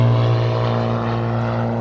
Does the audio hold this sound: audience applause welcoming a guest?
no